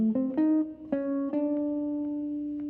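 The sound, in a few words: jazz guitar phrases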